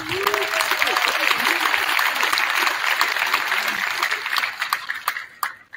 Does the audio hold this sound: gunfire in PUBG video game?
no